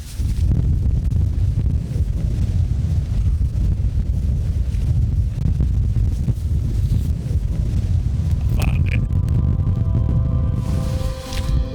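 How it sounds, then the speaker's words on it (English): Strong westerly wind buffets an exposed spot on Ingleborough during a stormy wild camp, a loud continuous low roar with gusty rumbling that fills the whole stretch, with some flapping and rattling near the end. "The unfortunate thing is we're right in that westerly wind."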